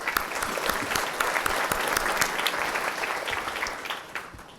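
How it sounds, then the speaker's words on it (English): Steady, full applause fills a hall as the audience at a city's State of the City address claps for city council members, a continuous crowd clatter that holds even and then tapers slightly at the end. "They deserve a round of applause."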